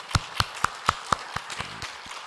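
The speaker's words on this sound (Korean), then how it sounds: "박수로 한번 격려하겠습니다" Members of a church congregation at a special early-morning Nehemiah prayer service clap in a short, loose burst of about eight distinct claps, fairly sparse and slowing toward the end, with no talking.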